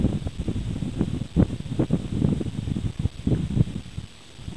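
Gusty wind buffets the microphone in uneven low rumbling surges on a mountain trail lookout in the McDowell Mountains, Arizona, steady and close throughout with a brief lull near the end.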